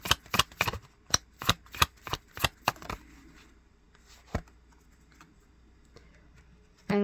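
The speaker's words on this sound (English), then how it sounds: "All right, let's give it another shuffle." A deck of oracle cards is shuffled in a quick run of about nine sharp riffling bursts, close and clear, followed by a few softer card handling clicks and quiet room tone.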